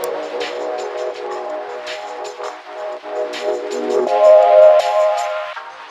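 A subway train at a small New York City station, a loud nearby rumble with tonal squeals and rising screech as cars move along the platform, no talk.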